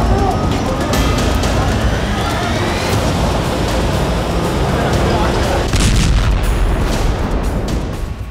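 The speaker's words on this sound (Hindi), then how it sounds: "और तभी एक जोरदार धमाका होता है।" A loud, sustained explosion blast fills the whole stretch, with a rumbling roar that swells again toward the end, in Jenin camp; voices may be faintly mixed in.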